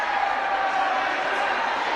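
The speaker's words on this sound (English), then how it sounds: "This home crowd and this home team for Republic County fired up here early on" A home crowd at a girls' high school basketball game, Southeast of Saline at Republic County, roars in a steady, dense wall of cheering and noise, with voices mixed in.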